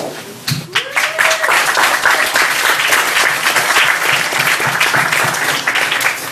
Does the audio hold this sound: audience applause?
yes